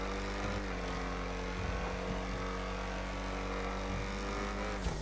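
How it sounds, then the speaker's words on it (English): The Ocelot XA-21 supercar's engine drones steadily while driving in a video game, a dense low growl with a brief rise in pitch near the end and no talking. "So just as I drive around, you can actually hear the ferocity of it."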